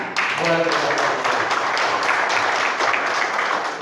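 Steady applause from the crowd at the fifth Forkabi general congress, dense and continuous throughout, with a speaker's voice briefly heard over it near the beginning.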